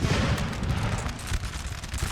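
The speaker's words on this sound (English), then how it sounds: "Sultan's Guard has opened fire" Dense, continuous musket volleys from a Napoleonic battle in Napoleon Total War, Ottoman Sultan's Guard opening fire, a rolling crackle of many overlapping shots at steady loudness with no clear gaps.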